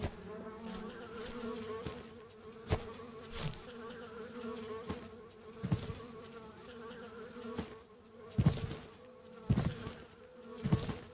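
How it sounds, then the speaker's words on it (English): Bees buzzing continuously, with the drone rising and falling as insects pass close, punctuated by several soft knocks and thumps. "Are they angry bees?"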